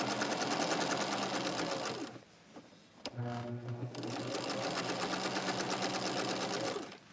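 Sewing machine stitching a sashing border onto a quilt, a fast steady mechanical whirr that drops out briefly mid-way, then resumes and runs on close and loud.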